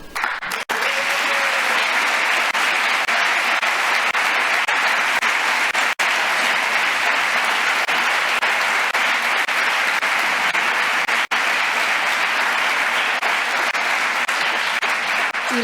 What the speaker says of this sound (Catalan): Jo no comptava que ara aplaudíssim